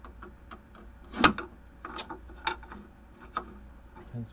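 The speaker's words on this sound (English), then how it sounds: "A chisel." A chisel working wood held in a bench hook, giving a few scattered sharp knocks and scraping clicks, one loud strike near the start, close by in a quiet room.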